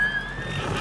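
White horse in the video game Ghost of Tsushima gives a brief whinny, with hoof sounds mixed into a busy game soundscape for under a second.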